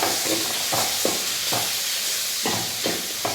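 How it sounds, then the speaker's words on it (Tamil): Food sautés in a pan with a pinch of rock salt, a constant hot sizzle punctuated by repeated scraping stirs roughly every half second, close and clear with no talking. "கொஞ்சோண்டு கல் உப்பு, நல்லா வதக்கி விடணும்."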